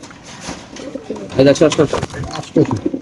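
Racing pigeons cooing at close range at a market stall, several soft throaty coos overlapping in quick bursts over a murmur of background voices.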